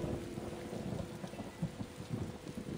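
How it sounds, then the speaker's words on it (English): Thunder rumbles through a rainstorm in the game Tales of Xillia 2, a low rolling roar that swells and dips over a steady wash of rain, with no voices. "Man, this thunder's pretty intense, huh?"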